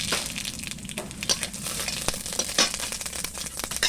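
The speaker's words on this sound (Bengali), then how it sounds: "টকের জন্য তেল দিছি এবার সর্ষে দিলাম" Mustard seeds crackling and sizzling in hot oil in a home kitchen pan, a steady dense hiss dotted with sharp little pops throughout, close and fairly loud, no voices.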